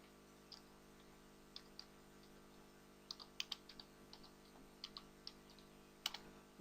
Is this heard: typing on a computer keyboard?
yes